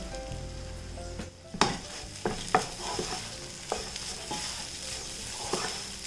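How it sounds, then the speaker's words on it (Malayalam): A spoon stirs grated coconut and cardamom powder in a hot pan for a tea-time modakam filling, giving soft repeated scrapes and taps against the metal over a faint sizzle. "എല്ലാം കൂട്ടിയിട്ട് നന്നായിട്ടൊന്ന് മിക്സ് ചെയ്ത് കൊടുക്കണം."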